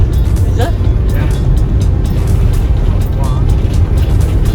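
A new 2022 Compass Elddis 155 camper van engine drones loud and rough from inside the cab while driving, a constant low rumble, with brief voices speaking over it.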